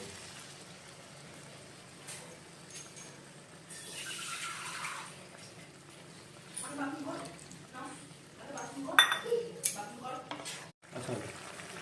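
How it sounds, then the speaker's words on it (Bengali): Water being poured into a pan of spiced koi fish masala, with a soft rushing pour and bubbling, then stirring and clinks, fairly faint, as a voice talks quietly in the background. "এখন আমি জল অ্যাড করে দেবো"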